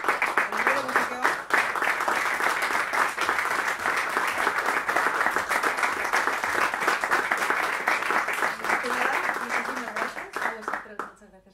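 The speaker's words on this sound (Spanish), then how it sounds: "Quiero que demos un fuerte aplauso y recibir de nuevo aquí a Carolina" Sustained, loud audience applause following a commented concert in the Viernes de Musikeon series, dense clapping continuing steadily for around ten seconds before thinning and fading at the end, with some voices mixed in.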